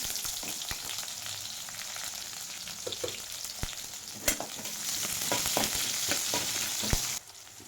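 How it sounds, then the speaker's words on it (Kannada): Garlic and onion fry in oil with crackled mustard seeds for a tempering, a soft continuous sizzle broken by utensil taps and a few sharp clicks, ending in a sudden drop. "ಸ್ವಲ್ಪ ಬೆಳ್ಳುಳ್ಳಿ ಸೇರಿಸ್ಕೊತಾ ಇದ್ದೀನಿ ಹಾಗೆ ಸ್ವಲ್ಪ ಈರುಳ್ಳಿಯನ್ನು ಸೇರಿಸ್ಕೊತಾ ಇದ್ದೀನಿ"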